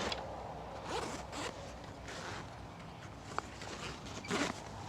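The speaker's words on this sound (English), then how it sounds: "We'll zip that one up" A compartment of a Highland Tactical Vantage bug-out bag is zipped shut in a few quick, close rasping pulls, with light rustling of the fabric and no talking.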